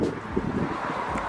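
Wind buffets the microphone outdoors just after rain, a steady low rumbling roar with no speech, beside a teal cobalt Chevy coupe.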